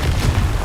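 A Confringo blasting curse goes off in Hogwarts Legacy, a short loud booming burst with a deep rumbling low end, heard alone and cut off within a second.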